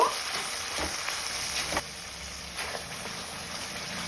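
Yogurt-based spice paste sautéing in a pan for a raw-banana kofta dish, giving a steady close hiss of sizzling with a few brief scraping bursts from stirring.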